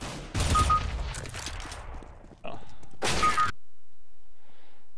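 Gunfire in a video game strikes walls in two loud, rapid bursts, the first fading out and the second cutting off abruptly into near silence, with a faint metallic clatter afterward.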